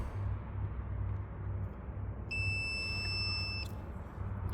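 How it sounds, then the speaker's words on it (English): Multimeter on continuity setting beeping steadily for about a second as a probe touches an ignition coil wire pin on a 1999 Ford F250 V10, a single clear tone over a constant low engine-bay hum. "Got it on continuity check, and when I touch this 5th wire or 5th pin, it beeps."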